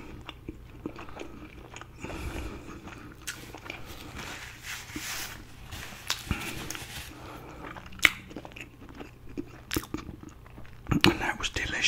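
Biting and chewing a breakfast sausage muffin with bacon, heard up close in a quiet room as soft, irregular crunches and wet mastication with occasional louder bites.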